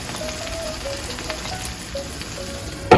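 Steady sizzling and crackling of ingredients, including Cheongyang chili peppers, frying in a pan, continuous and close, ending with a brief louder clatter.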